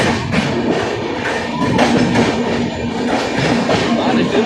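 A passenger train on the Sakleshpur route rumbles past up close, with loud rhythmic clickety-clack of wheels over rail joints and a faint squeal, steady and continuous throughout.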